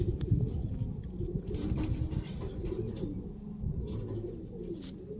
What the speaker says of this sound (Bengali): তিনটে পায়রা একই সঙ্গে ছেড়ে দেখাচ্ছি।